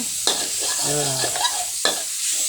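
Ground pork from the market stir-fried in a wok for a Thai eggplant and pork oyster-sauce dish, with a sizzling hiss and two sharp spatula scrapes against the pan, plus a brief hum-like voiced sound midway.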